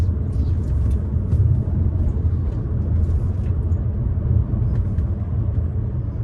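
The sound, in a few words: 2014 Peugeot RCZ driving in fourth gear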